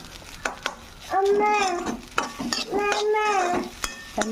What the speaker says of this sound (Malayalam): ഇളക്കി യോജിപ്പിച്ച് നന്നായിട്ട് മിക്സ് ചെയ്യും